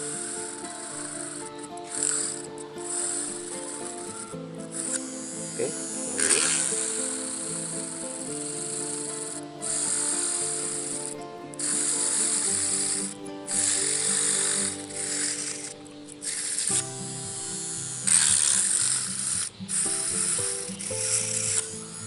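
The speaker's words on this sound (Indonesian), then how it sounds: "langsung aja kita bor pakai bor rakitan ini" A homemade drill bores through a small 2.7 cm frog fishing lure, giving a steady whirring, ratcheting mechanical drone with tonal hum, broken by brief pauses and changes in pitch, close and continuous.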